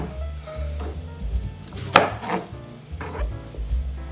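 A knife slices through an onion on a board, one sharp, firm cut standing out among a few lighter chops, heard close over a low steady background hum.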